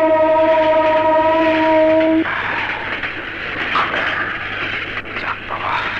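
A passenger train runs with a loud, steady rumble, opening with a sustained horn blast that cuts off after about two seconds. The roar of the running train continues after it.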